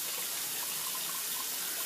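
A steady, close rush of tap water runs without a break as someone rinses off after a shave with Arko shaving soap. No one speaks.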